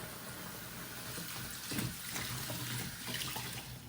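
Running water from a tap, used to wash plastic model kit sprues and resin pieces, makes a steady faint splashing hiss with small sloshes and clunks of parts being handled, with no talking.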